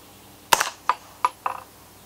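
Four sharp, fairly faint cracks from a Spikes Brown Recluse integrally suppressed 9mm carbine firing subsonic ammunition come in quick succession, each a clipped snap with a short tail, spaced roughly a third of a second apart.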